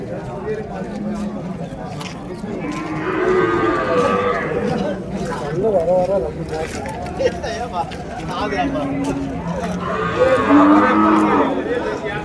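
Cattle and calves low repeatedly at a busy cow market in Vaniyambadi, Tirupattur district, with two long moos rising over steady crowd chatter and people talking nearby.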